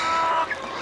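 Brief, close clucking from farm chickens, a single short burst of hen sounds under less than a second of barnyard ambience.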